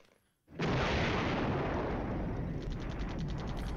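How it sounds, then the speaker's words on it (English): A destroyed unit explodes in the Flashpoint Campaigns: Southern Storm war game, a sudden loud blast that swells into a dense, roaring rumble and holds heavy and sustained for several seconds with no talk. "It's definitely the sound of a destroyed unit."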